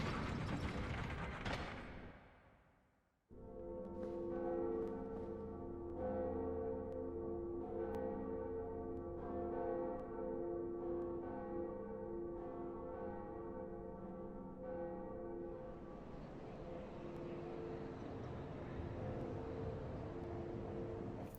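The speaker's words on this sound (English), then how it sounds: "ring the bell. See who's home." A church bell rings in the Dark Souls video game, a sustained metallic tolling with long resonant overtones after a brief noisy lead-in, ringing out steadily with mechanical creaking underneath.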